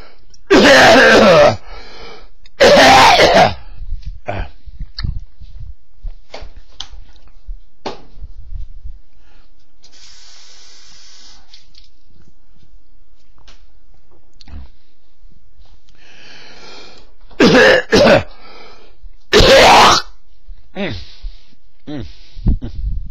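Loud, harsh throat-clearing comes in two pairs of bursts, one at the start and one much later, separated by long quiet stretches.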